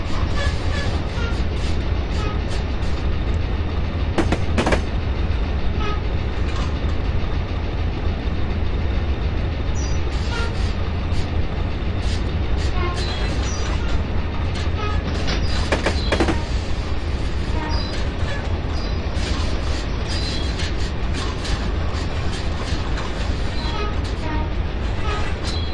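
A Baldwin Centipede diesel locomotive in Train Simulator 2016 runs steadily with a constant heavy engine drone, rail noise and occasional sharp wheel clicks and squeals throughout.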